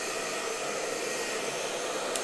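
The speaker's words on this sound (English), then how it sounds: "I'm gonna go up to high heat." CONFU KF-5908 1875W professional hair dryer running on high heat, a loud steady close-up blowing whoosh with constant airflow and motor hum, no voices.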